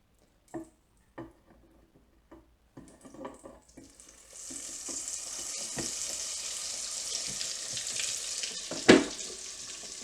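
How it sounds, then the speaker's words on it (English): Gluten-free vegan burger patties frying in a pan: a few soft, separate clicks and taps, then a steady, close sizzle that swells from about the midpoint and holds, with one sharp clunk near the end. "We don't want to fry too long because all the vegetables are cooked already. We only need to brown the outside."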